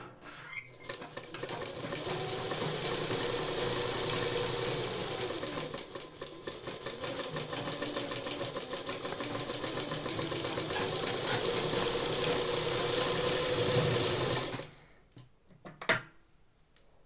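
A sewing machine runs continuously for about fourteen seconds, stitching the seam of a boat-neck frock with a rapid, even clatter, then stops, leaving a few soft handling clicks.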